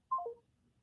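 A single short telephone keypad tone, a brief electronic beep from pressing 1 to accept a call, heard alone and fairly faint.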